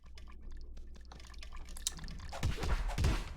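Footsteps of a character running across water in the video game Cube World, a quick run of soft splashy patters that grows louder and heavier toward the end, with no voices over it.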